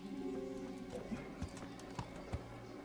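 Horse hooves clip-clop in a few sparse, soft thuds in the medieval role-playing game Kingdom Come: Deliverance, with a quiet tonal background beneath.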